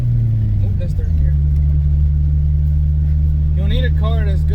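A car engine drones loud and steady with a strong low tone, dipping briefly as it shifts into third gear and then holding a sustained pitch, with a person talking over it near the end.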